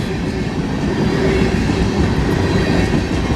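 A freight train with triple DPU locomotives rolls past close by, loud and continuous, with rumbling wheels and rhythmic clacking on the rails.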